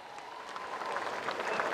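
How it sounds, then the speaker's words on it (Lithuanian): An audience applauds to welcome Lithuanian swimming federation officials at a homecoming event for an Olympic swimming champion in Vilnius, a dense, continuous wash of crowd clapping at moderate distance. "Sutikite ir juos aplodismentais"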